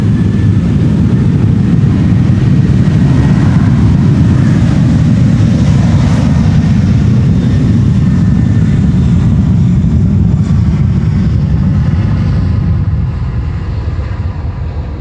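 A KLM Boeing 737 bound for Catania takes off from the Polderbaan runway 36L at Amsterdam Schiphol on a sunny morning, producing a loud, steady, rumbling jet roar throughout that eases slightly at the end.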